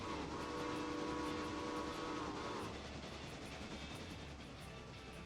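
In the Railroader video game, a steam locomotive whistle sounds a sustained, fairly faint tone for about two and a half seconds, then cuts off, leaving a steady rumbling train background.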